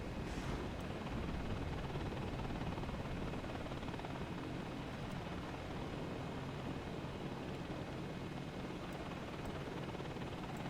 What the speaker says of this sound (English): Here we're moving another Apache helicopter.